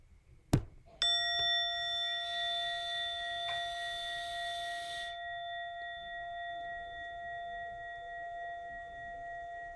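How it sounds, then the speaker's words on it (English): A single clear bell chime rings out after a brief knock, then sustains and slowly fades away into quiet. "In a moment, you'll hear a bell or a chime."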